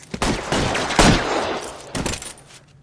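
Gunfire erupts in the L.A. Noire shootout at Mallory's Cafe on Broadway: a dense fusillade of close, loud shots in bursts, with a heavy volley near the middle and another near the end.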